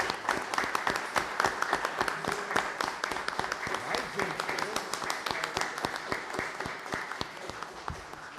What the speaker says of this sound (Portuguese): peço uma salva de palmas ao Toco, porque essas atitudes têm que ser homenageadas